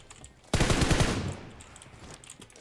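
Automatic weapon fire in PUBG Mobile erupts suddenly as a rapid, loud burst of several shots that decays into a fading echo, with quieter game ambience before and after.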